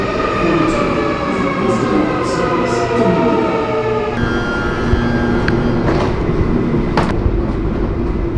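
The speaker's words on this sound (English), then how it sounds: "Train number 3 and final train on the way to the city." A commuter train heads toward the city, heard from inside with a steady loud rumble, rattling car noise and occasional clicks and squeaks throughout.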